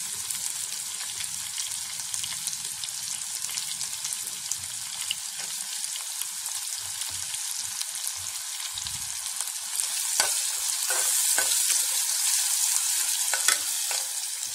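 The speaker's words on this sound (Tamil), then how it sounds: "2 வெங்காயம் போட்டு வதக்கணும்" Two onions sautéing in a pan for peas masala give a continuous bright sizzle that swells louder toward the end, with occasional stirring scrapes and no talking.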